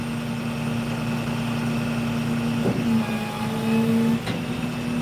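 A loud car engine idles nearby with a steady low rumble and a droning hum, rising slightly in a couple of brief revs.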